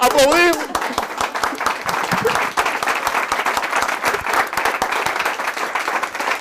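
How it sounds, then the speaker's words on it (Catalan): An audience bursts into applause, dense rapid clapping that stays loud and steady throughout, with a voice heard briefly at the very start. "Atenció, gràcies, aplaudim!"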